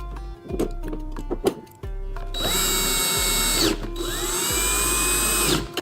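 Loud, close power drill driving screws into a TV mount: a few short trigger bursts, then a sustained whirring run that dips briefly before winding up again and cutting off.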